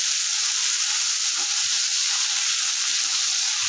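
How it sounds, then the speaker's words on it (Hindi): Chopped onion sizzling in hot oil in a pan with already-fried garlic for palak paneer, a steady bright hiss that stays loud and even throughout with no talking. "प्याज को डाल देंगे इसमें। अब इसे अच्छे से भून लेंगे।"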